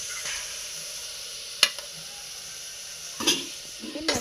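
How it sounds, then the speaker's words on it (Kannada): Ground masala paste fries with onions in a pan for a vegetable sagu curry, a faint steady sizzle with a few sharp scraping stirs of a spoon. "ಆ ಮಸಾಲೆನ ಇದಕ್ಕೆ ಹಾಕಿಬಿಟ್ಟು ಇದನ್ನು ಕೂಡ ನೀಟಾಗಿ ಫ್ರೈ ಮಾಡಿ"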